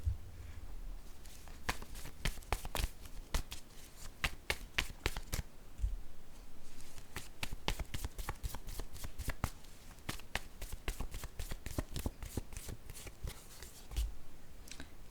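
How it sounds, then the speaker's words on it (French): A deck of tarot-style reading cards is shuffled by hand, a long run of quick crisp riffles and flicks, then cards slapped down one by one, close and alone without talk. "Je vais placer les cartes."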